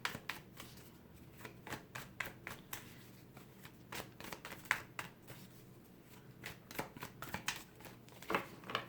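Crisp, rapid riffle-and-bridge card shuffles from an A.E. Waite tarot deck, close and fairly quiet, in repeated bursts of flicking cards with brief pauses between passes and no talking.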